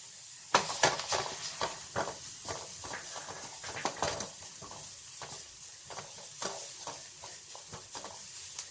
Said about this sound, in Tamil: இதோட இஞ்சி பூண்டு பேஸ்ட், இது வதங்கிட்டு